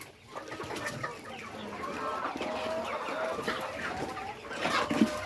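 Native chickens cluck and call in a farmyard coop, a steady mix of nearby and farther hens with scattered squawks and rustling throughout.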